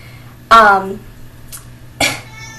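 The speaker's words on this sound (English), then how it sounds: "And there was my cat. I don't know if you can hear him, but he is yowling." A cat yowls loudly in a drawn-out, wavering cry, followed a moment later by a second, shorter yowl, with faint background noise between.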